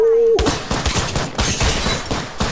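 Rapid gunfire in Apex Legends crackles in a dense, loud burst of repeated shots after a brief tone at the start.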